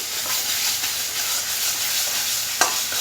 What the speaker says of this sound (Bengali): এবার মশলাটা সুন্দরভাবে নাড়তে থাকবে যাতে এর কাঁচা গন্ধটা